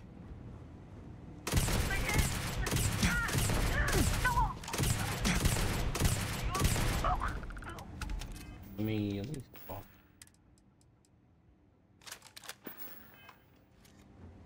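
Gunfire from a weapon in the Starfield video game, a dense burst of rapid shots lasting several seconds, loud and close, followed by quieter mechanical sounds and occasional clicks.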